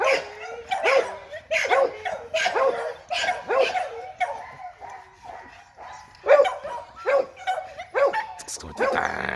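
A game-bred stud dog barks in a steady series of sharp, close barks with short gaps, some yips and whines mixed in.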